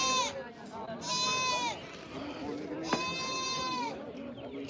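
Goats at a weekly goat market bleat in long wavering calls, several loud and close, with people talking in the background throughout.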